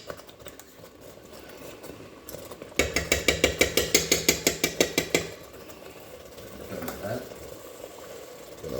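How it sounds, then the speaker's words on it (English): Tomato paste sputtering in a hot pan while cooking a marinara sauce, giving a rapid series of sharp, crackling pops for a couple of seconds over a steady background sizzle and hiss. "Lower the heat down a little bit because it's starting to splatter."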